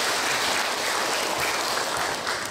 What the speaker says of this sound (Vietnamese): Chúng ta cùng chúc mừng cho giáo họ Phan Giáo một tràng pháo tay.